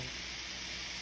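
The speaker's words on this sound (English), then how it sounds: "The sausage is browning" Sausage browns in a pan with a steady, soft sizzle and crackle, heard close and continuous with no voices.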